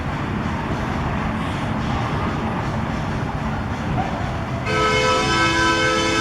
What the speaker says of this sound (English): And that was a train, one of the little rides